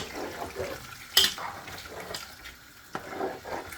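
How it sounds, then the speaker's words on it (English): Water splashes and pours into a pot of catfish in short bursts, close by, with a soft rushing sound and a couple of sharper splashes. "So I'm going to add more water now"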